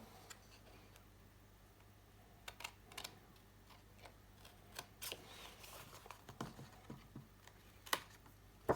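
Scissors snip paper pieces for a Stamperia Amazonia memory box with side-opening wallets, a quiet series of short, crisp clicks and cuts at close range with no talking.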